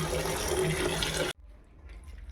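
Tap water runs in a steady, loud gush while raw fatty meat is washed in a home kitchen, then cuts off abruptly, leaving quieter drips and faint handling sounds.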